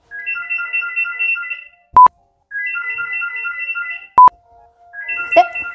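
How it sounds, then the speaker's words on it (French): A landline telephone rings in long trilling bursts, three ring cycles separated by brief pauses, each cycle broken by a sharp electronic beep, fairly loud and close with no talking. "Moi, je me rappelle plus que c'était aussi long, une sonnerie de fixe."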